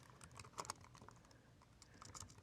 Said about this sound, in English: I'm going to go ahead and start typing in my text